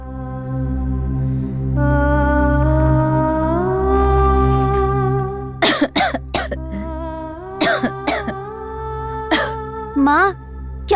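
An elderly woman coughs in a devotional drama, several harsh, ragged coughs and throat rasps in quick bursts that cut across a sustained droning music score, close and fairly loud.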